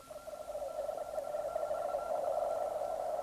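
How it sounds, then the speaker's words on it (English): A steady, noisy radio hiss with a droning band of static swamping the Mariner 9 spacecraft's signal, a faint tone buried inside it, constant and fairly loud throughout. "the noise swamps Mariner's signal."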